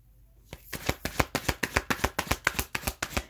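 Playing cards shuffled during a tarot reading, a fast run of about fifteen crisp flicks and slaps in a steady rhythm, close and clear with no talking.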